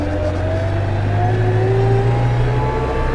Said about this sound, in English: oh, you're frightened of getting your little car scratched?